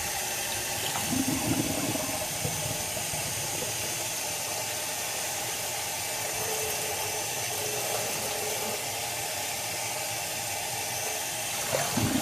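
Dyed Shetland wool is rinsed under steady running water, a continuous broadband rush and splash that holds evenly throughout, close and fairly loud, with no voices.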